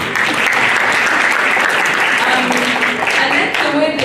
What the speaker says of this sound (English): Please give them another clap.